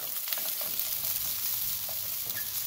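Vegetable fried rice with mixed vegetables frying in a hot pan gives a steady, close, crackling sizzle that holds without a break throughout, with no voices.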